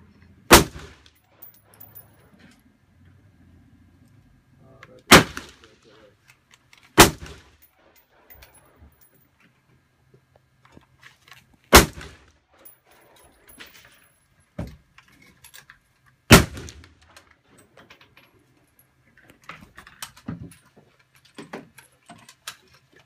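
Gunfire from shooters at a firing range: sharp, loud single shots spaced several seconds apart, about six strong cracks plus fainter distant reports, with quiet gaps between.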